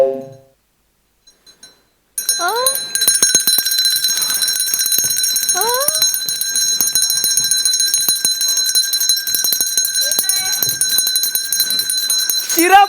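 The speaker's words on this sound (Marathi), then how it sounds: "दरवाजावरची बेल कोणी वाजवली" A doorbell rings on a stage comedy set, a loud, sustained electric jangle that runs for many seconds without a break. Voices sound faintly over the ringing.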